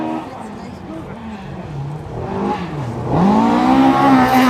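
A rally car on a gravel stage at Rally Otago approaches and races past, its engine rising in pitch as it nears, loud and close at the end over steady outdoor noise and a speaking voice.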